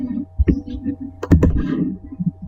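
Computer keyboard being typed on while coding, a scattering of clicks and a brief cluster of quick taps, close, with a low steady hum and some background noise.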